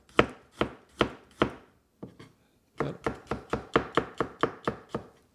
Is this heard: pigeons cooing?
no